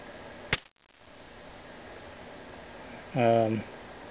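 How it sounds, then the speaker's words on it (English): An airgun pellet strikes a target with one sharp, loud crack early on, followed by steady background hiss and a brief tonal buzz near the end. "So you can hear the impact. It's a lot louder than the gun itself."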